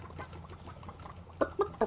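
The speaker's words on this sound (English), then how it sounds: "I like all the sounds of the chickens." Chickens in the Spyro Reignited Trilogy video game cluck in a few short, clear bursts near the end, over a busy, low game-ambience background.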